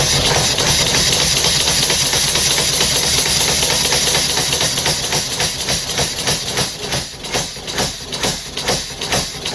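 A three-cylinder push-pull air engine missing a cylinder runs with loud, uneven hissing exhaust that settles into a choppy, jerky chuff-chuff beat toward the end.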